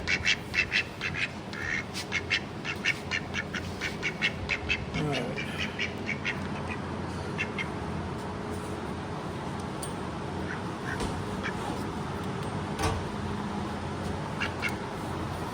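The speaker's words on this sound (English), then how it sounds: "that noise you're hearing in the background, yes, it is a duck." A duck quacks repeatedly in the background during a 2000 Chevrolet Camaro power window repair, with rapid bursts of quacks early on that thin to occasional calls under ongoing talk.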